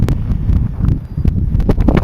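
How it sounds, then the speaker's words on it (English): Strong wind buffets the microphone outdoors on a trail at Mount St. Helens in a steady, loud rumble with gusty surges and no talking. "It's really windy here."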